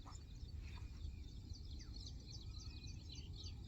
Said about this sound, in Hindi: बस पंछियों की आवाज़ आ रही है